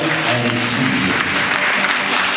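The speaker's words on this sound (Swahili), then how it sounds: "Ukipiga makofi mengi kamata hiyo neema pia" A church congregation at a feet-anointing service claps hands continuously, a full and fairly loud wash of applause with a faint musical tone underneath.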